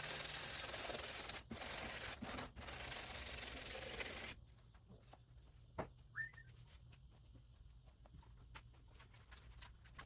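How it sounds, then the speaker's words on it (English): New sandpaper scrubs the bodywork of a 1957 hardtop car in a loud, steady rasping sweep for about four seconds, broken by brief pauses, before it stops and leaves a quiet room with faint scattered noises. "Get that stickiness off the outside of it before we hit it with our new sandpaper."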